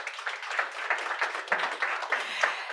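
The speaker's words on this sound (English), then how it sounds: "Give a big hand of applause." Audience applause at a startup competition grand finale welcoming a Swiss team, many hands clapping in a brisk, uneven patter with rhythmic swells, moderately close and steady throughout.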